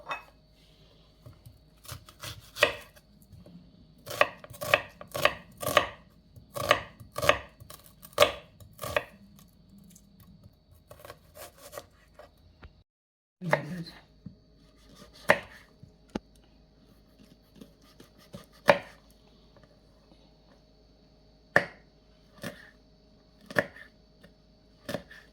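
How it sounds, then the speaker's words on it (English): A knife chops seasoning vegetables finely on a cutting board for a scrambled tofu dish, with quick runs of close, crisp taps broken by pauses and a clatter of dishes. "Very fine, I'm going to cut these to go in the tofu."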